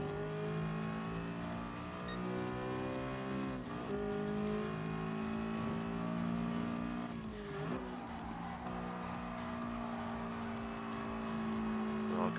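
A first-edition 2008 Audi R8 in Gran Turismo Sport drones along in a steady, close engine tone, rising and dipping with brief tire squeal as it corners, with no talk over it.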